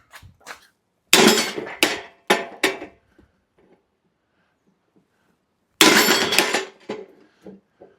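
Sharp metallic hammer blows ring out on a brake part of a 1941 Mercury, in two bursts, several strikes in quick succession, then a pause before another loud series of hits.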